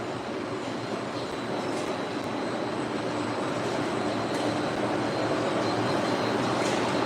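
A rug cleaning machine spins at high speed, a continuous loud broadband whir and roar that holds steady and builds slightly over the whole stretch.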